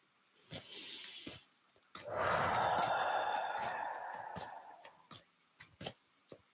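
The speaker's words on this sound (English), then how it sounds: "Taking a deep breath." One long, deep breath is drawn in and slowly released at close range, quiet and alone, with small mouth clicks before and after.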